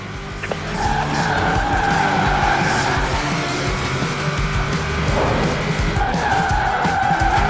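A car drifting in Forza Horizon 4 with steady, loud tire squeal over a droning engine, held continuously throughout and close up.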